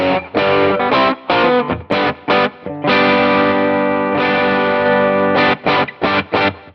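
A distorted electric guitar runs through a graphic EQ in the Headrush Doctor McFarland pack, playing loud, choppy chugged chords broken by short gaps, then a longer sustained chord, with no talking.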